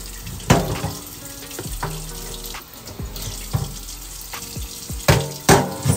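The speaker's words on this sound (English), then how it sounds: "just keep straining it till you feel like you got as much of that starch and white water out" Tap water runs into a sink while rice is rinsed and strained, a steady splashing wash broken by several louder clattering gushes as the grains and water are swirled and poured off.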